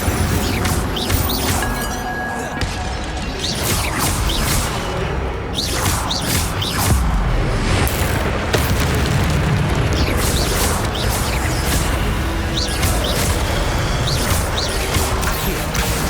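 Fire spells cast over and over in the Hogwarts Legacy video game: dense, loud booms and whooshing bursts with clinking debris, continuous for the whole stretch and layered with game effects.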